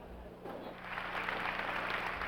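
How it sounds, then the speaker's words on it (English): Concert hall audience breaking into applause as a chorus walks on stage before a Stravinsky performance, a faint, distant wash of clapping that swells after a quiet start and holds steady. "Applause broke out as the chorus walked on stage."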